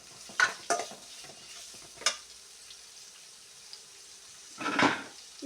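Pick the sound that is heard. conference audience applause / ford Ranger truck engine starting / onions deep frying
onions deep frying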